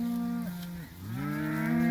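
Yearling cattle in a herd being combined on pasture on a warm night, giving two close, loud, drawn-out moos with a brief dip between them and no talk.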